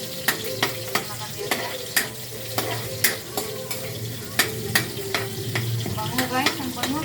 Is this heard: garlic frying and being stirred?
yes